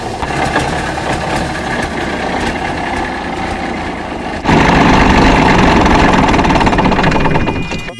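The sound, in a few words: big Cummins-powered truck engine started and running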